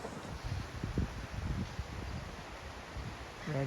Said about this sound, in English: It's shaking back and forth in the wind.